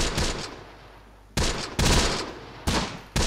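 Machine gun fire from the Close Combat: The Bloody First war game comes as short, loud, close bursts of rapid shots separated by brief pauses.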